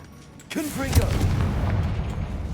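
A Confringo fire blast spell cast in the Hogwarts Legacy video game bursts in with a sudden booming blast and swooping, whistling tones, then rumbles on with a sustained low roar.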